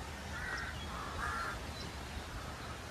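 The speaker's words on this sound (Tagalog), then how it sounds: "Mga uwak." Crows at a nesting area on Masasa Beach in Tingloy, Batangas give two or three faint, distant caws over a steady outdoor background hiss.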